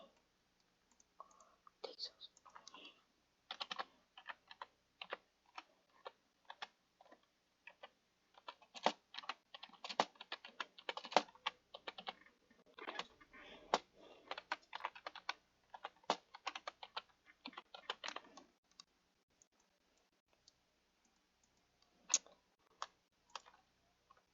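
Rapid typing on a computer keyboard, close and fairly quiet, with irregular bursts of keystrokes and short pauses across the whole stretch, no talking over it.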